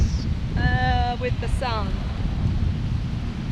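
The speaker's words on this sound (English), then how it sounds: "it's so windy" Steady wind rumbles and buffets the microphone throughout on Aroa Beach in the Cook Islands, with a brief spoken phrase partway through.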